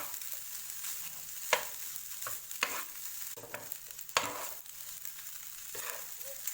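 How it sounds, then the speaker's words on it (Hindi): Rice and vegetables for Mumbai street-style tawa pulao are stirred on a hot tawa, with a steady sizzling fry broken by sharp spatula scrapes and clanks at irregular intervals; no talking. "ताकि अच्छे से हमारा राइस सब्जी में अच्छे से मिक्स हो जाए"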